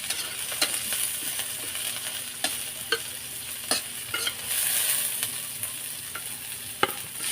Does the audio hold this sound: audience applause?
no